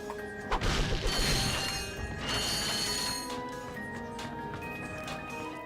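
Crates smashed open to collect bolts in the Ratchet & Clank game on PS3, a loud crash followed by clinking metallic pickups over steady game music and mechanical ambience, with a second softer burst.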